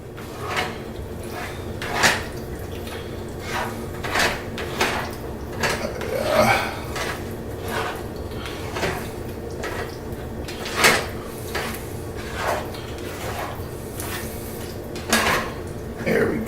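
A spaghetti dinner being mixed in a pot, a utensil clattering and scraping steadily against the metal in a busy home kitchen, with sharper knocks now and then.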